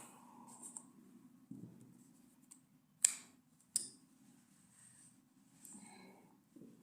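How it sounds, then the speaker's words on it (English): Scissors snip through yarn at the end of a crocheted lavender coaster round, giving two sharp, close cuts in quick succession over a quiet room hum. "slip stitch into your third chain and cut your yarn"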